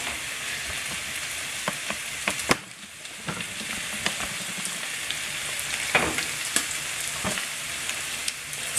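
Steak, veggies and cheese cook in a pan over low heat, giving an even close sizzle with scattered ticks and clinks from a spatula moving through the food.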